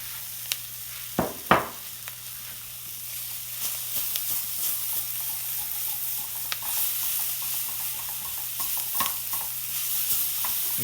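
Peppers frying in a pan with chorizo for cazuela de chorizo, a steady soft sizzle with several sharp stirring scrapes early on and scattered clicks and pops throughout.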